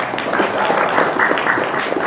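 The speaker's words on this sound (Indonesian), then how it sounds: "Boleh tepuk tangan Bu Haji?" Congregation applause at a Maulid Nabi celebration inside a mosque, a close, loud and continuous wash of clapping that holds steady for about two seconds.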